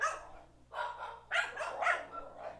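Dogs bark in several loud bursts in a row, close to the microphone during an online sim race broadcast, with a short gap after the first bark.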